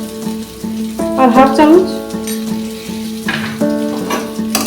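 Spices with salt and chili powder frying in a pan for a tangy raw mango, sweet potato and fish roe dish, a continuous loud sizzle under a woman's brief speech, with occasional stirring scrapes.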